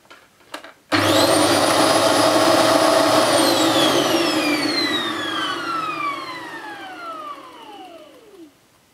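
A Hoover Globe GL1103 bagless upright vacuum cleaner switches on with a sudden loud roar of motor and rotating brushes, holds a steady whine, then winds down with falling tones as it powers off.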